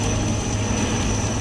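Army rescue helicopter landing on a rooftop during flood rescue, a steady loud engine and rotor drone with a constant high whine, continuous and close with no talk.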